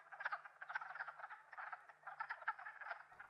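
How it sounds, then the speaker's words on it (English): Wood frogs call at a pond in a beaver habitat, a dense chorus of quick, clucking croaks repeating in bursts, fairly close and clear with no talking. "and wood frogs are calling."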